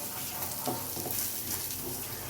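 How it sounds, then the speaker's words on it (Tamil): Tomatoes frying in oil for a fish curry, a soft continuous sizzle with a few faint stirring scrapes, close by and without speech. "இதுவும் தக்காளியை நல்லா பச்சை வாசனை போகிற வரைக்கும் நம்ம நல்லா எண்ணெயில் நல்லா வதக்கி விடணும்"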